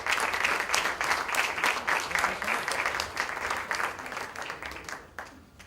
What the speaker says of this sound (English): A loud round of applause for Mr. Amitabh Bachchan.